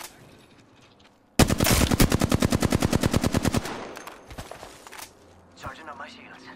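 Rapid automatic gunfire in a video game, a loud burst of evenly spaced shots lasting about two seconds after a quiet start, followed by fading echoes and softer game sounds, with a voice speaking alongside.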